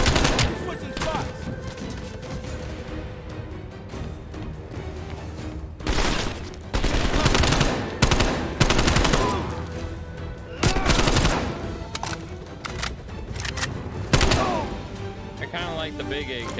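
Gunfire from an AK rifle in Call of Duty: Black Ops Cold War, with sustained loud automatic shooting and heavier bursts and booms throughout, mixed with battle noise and voices.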